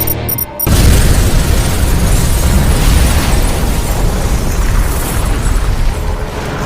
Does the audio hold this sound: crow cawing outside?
no